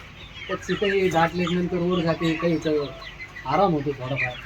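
Kaveri country chickens on a poultry farm, sitting on a hand-pushed swing, cluck in a busy series of close, overlapping calls, with short pauses and a final burst of clucking.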